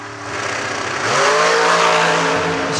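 A Top Fuel dragster roars down the drag strip at a racing event, its engine a loud sustained blast that climbs in pitch and intensity as it accelerates away.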